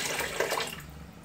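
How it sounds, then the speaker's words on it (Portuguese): Water pours into a cooking pot to cover pieces of oxtail, a brief, steady splashing rush close by. "é colocar água para cobrir a rabada, entendeu? Tem que cobrir a rabada"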